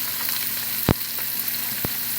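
Oil heated on medium-high in a pan sizzles and fries in a steady hiss, broken by two sharp, brief louder bursts, one early and one late, with no one talking.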